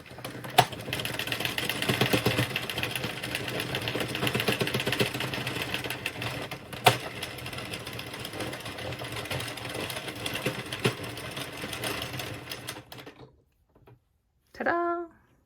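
Hand-cranked knitting machine doing a waste yarn cast-off, a steady mechanical whirring and clattering carriage noise running continuously at close range, then stopping abruptly near the end before a short burst of voice.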